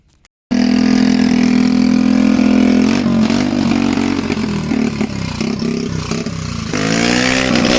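A motorcycle running on LPG gas instead of petrol, fitted with a loud aftermarket racing exhaust, fires up after a brief silence and idles loud and close with a steady throbbing note, then revs up toward the end.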